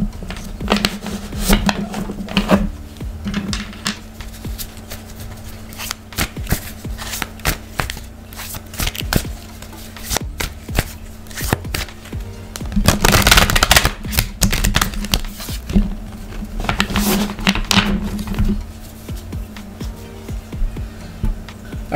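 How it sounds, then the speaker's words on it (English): Tarot cards being shuffled by hand at close range for a reading: a continuous run of crisp riffling and slapping flutters with a few louder bursts, under a low steady hum, with no talking. "While I was able to shuffle your cards"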